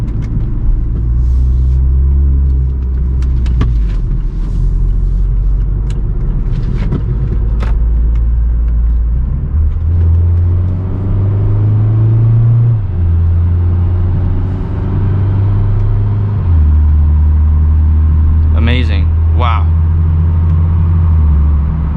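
A new eighth-generation Volkswagen with a 1-liter three-cylinder turbo engine driving on a public highway, a steady loud in-cabin rumble with gear-like shifts in engine tone throughout, and faint voices and brief chirps near the end.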